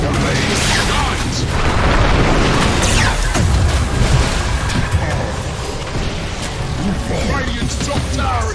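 A tower collapses in a Dota-style video game, heard as a continuous rumbling, booming crash with debris-like bursts under busy game effects and announcer talk.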